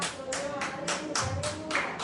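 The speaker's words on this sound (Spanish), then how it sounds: "denle un aplauso para Cristo" Rhythmic clapping repeats in steady beats, about seven claps over two seconds, loud and close, with a faint voice underneath.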